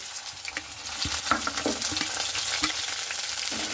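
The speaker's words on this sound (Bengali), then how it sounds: "পেঁয়াজটাকে খুব ভালো করে আমি ভেজে নেব।" Chopped onions crackle in hot mustard oil, giving a brief, steady, moderately loud sizzle up close with a few soft stirring knocks against the pan.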